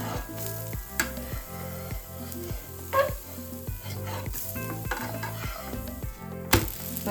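Dhinde, a Khandeshi flatbread, sizzles steadily in a pan, close and continuous, with regular soft scraping taps and a couple of sharper clinks as the bread is turned over.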